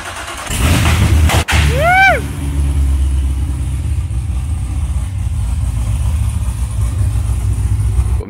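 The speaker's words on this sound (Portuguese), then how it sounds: "Hoje nós vamos ligar aí o motor pela primeira vez" A Corvette engine is started for the first time. The starter cranks, then the engine catches and settles into a steady, loud idle that rumbles on without stopping.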